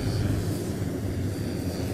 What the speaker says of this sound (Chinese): 飞机现在已经开始缓缓地驶向起飞的跑道